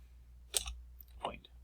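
A few quick plastic key clicks from a handheld calculator as numbers are entered, two short clusters close by and fairly quiet, with a faint voice nearby.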